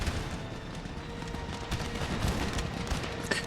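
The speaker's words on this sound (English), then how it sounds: "I think I have them just firing by themselves" Troops fire musket volleys in a battle video game, a continuous crackle of distant gunfire with scattered louder reports and dull booms, rumbling on at moderate loudness.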